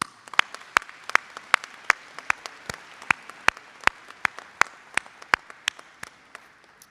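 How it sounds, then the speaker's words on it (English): Convocation audience at a college business ceremony gives a round of applause for faculty and staff: sparse, sharp individual claps ringing out at an uneven steady pace in a reverberant hall, with no voices. "Please join me in giving our faculty and staff a round of applause."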